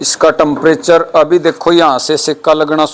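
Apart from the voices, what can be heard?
No everyday noise stands out behind the speech.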